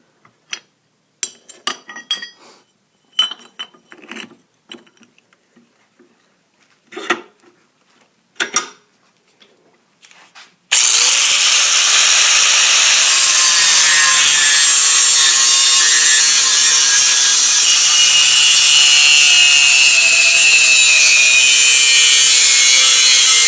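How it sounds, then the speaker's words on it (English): Power grinding of a metal door plate for a removable door modification on a 1993 Jeep Cherokee XJ: scattered scraping and rubbing at first, then a loud, continuous high-pitched grinding whine with a faint wavering pitch that runs to the end. "you're going to take a grinding wheel, and you're going to grind it to make it nice and smooth"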